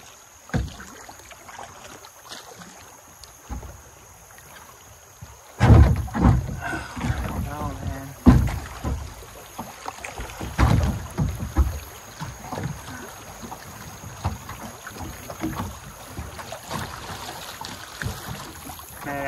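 Kayak paddling on Carroll Creek near Mount Carroll, Illinois: paddle strokes splash and swish through the water in irregular bursts close to the microphone, with wind buffeting and people talking and laughing between strokes.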